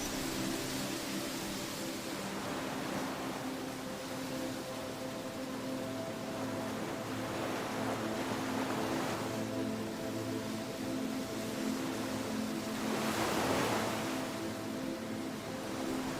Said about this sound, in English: Listen to the sound of the air as it goes through the leaves, resembling ocean waves.